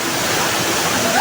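A waterfall near Rudrapur gives a steady, close rushing roar of falling water, unbroken through the short stretch with no voices.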